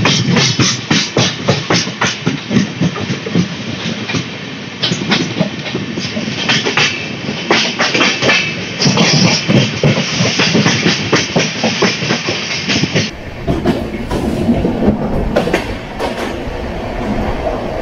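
The Nagpur-Mumbai Duronto Express rolls on its rails during heavy rain with a loud, steady rumble and rhythmic clickety-clack of wheels, heard from on board, changing tone near the end as the run shifts.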